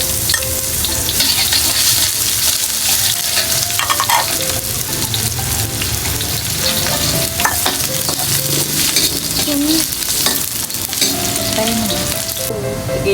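Garlic and onion sauté in hot oil in a pan, a loud, continuous sizzle and crackle close up, with occasional scrapes of stirring and faint background music.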